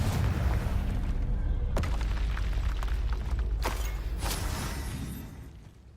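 A Confringo blasting spell goes off in Hogwarts Legacy, with a few sharp blast transients over a continuous low, rumbling game soundscape that fades toward the end.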